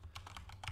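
Quick burst of computer keyboard typing while entering a parameter name during a landscape material setup: about half a dozen light, close keystrokes in rapid, slightly uneven rhythm, with no talking.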